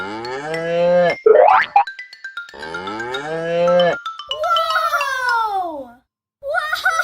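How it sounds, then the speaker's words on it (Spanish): A cow's moo in a children's farm-animal learning game, heard as drawn-out lowing calls alternating with playful cartoon boing and sliding sound effects, loud and up close with brief pauses between. "¿Cómo hace la vaca?"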